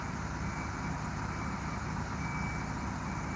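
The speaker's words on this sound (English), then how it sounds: "I think this guy backing up right here with the water, I think this is Winburn Sioux truck" A fire truck carrying water backs up at a trailer fire, its engine a steady low rumble from fairly close under a thin high tone, with constant background noise.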